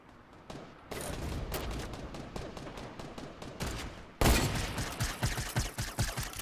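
Gunfire in a 50 vs 50 match of Fortnite on Nintendo Switch, quick repeated shots forming a continuous volley, then a louder burst of heavier, closer reports after a sudden jump in level.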